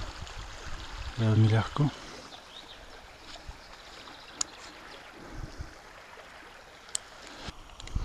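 Small stony brook trickling and gurgling softly in a quiet natural setting, a faint steady water murmur with someone briefly speaking early on and occasional clicks.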